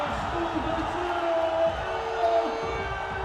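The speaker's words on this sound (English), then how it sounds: "the crowd appreciating his efforts" Arena crowd at a live professional basketball game cheering and whooping after a rim-rattling dunk, a broad sustained roar with a commentator talking over it.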